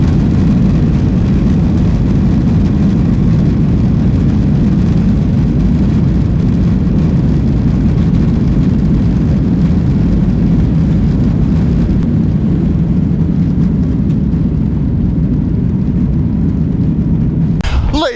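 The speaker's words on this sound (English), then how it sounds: "0 to 60 on an airplane, coming in about 2 minutes" Airliner accelerating down the runway for takeoff, a loud steady low engine roar with rushing wind noise holding constant for most of its length before cutting off abruptly near the end.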